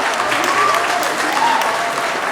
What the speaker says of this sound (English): you can clap for Theo